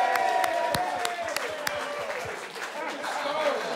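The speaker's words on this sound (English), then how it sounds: "Round of applause for that dude" Studio audience applause at a panel discussion show, moderately loud and spread across the moment, with a voice talking over the clapping and a few sharp individual claps standing out.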